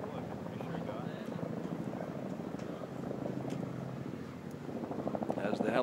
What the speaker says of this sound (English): As the helicopter flies overhead